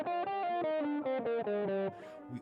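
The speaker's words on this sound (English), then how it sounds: "We also heard a G Phrygian, which sounds like this." A distorted electric guitar plays a quick stepwise G Phrygian scale run of about eight notes, each sharply separated, ending in a softer, fading tail.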